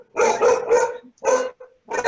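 A dog barks in several loud, close bursts, a quick run of barks followed by a short pause and then more, with no talk over it.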